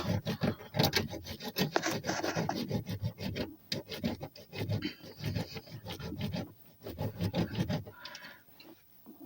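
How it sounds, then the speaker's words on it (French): Hand saw rasping through a power steering hose on a Peugeot 306 1.9 diesel, in repeated scratchy back-and-forth strokes with short pauses, close and fairly loud, no talk. "Là j'essaie de scier le tuyau."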